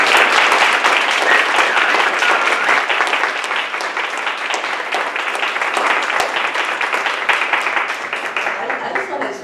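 An audience applauds the speakers at an evening community forum on sustainable living in Redlands, a steady, dense wash of clapping from many hands that stays loud throughout, with some talk mixed in.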